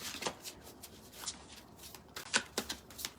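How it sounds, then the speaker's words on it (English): Tarot cards are shuffled close up in several quick riffling bursts, soft flutters and snaps separated by short pauses. "I'm just going to shuffle these cards real good."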